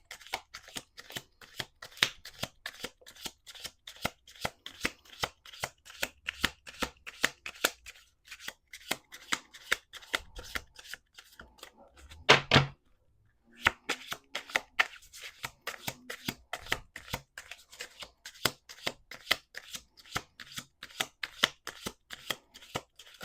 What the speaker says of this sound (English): We're going to do 2 more shuffles here.